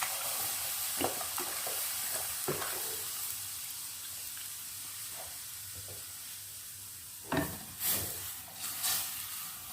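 Milk, about a liter, is poured into a hot pan with lightly browned contents, giving a steady wash of sizzling and hissing. Near the end come a few louder splashy surges and stirring clatters.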